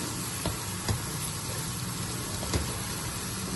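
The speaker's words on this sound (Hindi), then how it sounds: "टमाटरों को अच्छे से हमने भूनना है।" Tomatoes frying in a pan give a steady, close sizzle that holds even throughout, broken by a few faint clicks of stirring.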